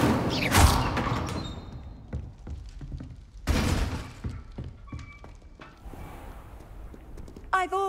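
An Incendio fire spell in Hogwarts Legacy bursts out with two loud whooshing blasts, followed by scattered thuds, cracks and crackling debris that fade between them, ending on a quick bright flutter.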